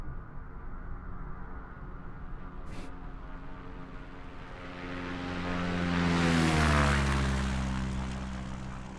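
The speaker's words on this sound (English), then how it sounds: "do a little flyby" Propeller airplane in a flight simulator game makes a flyby, its engine drone swelling as it nears, peaking loud with a falling pitch sweep, then easing away.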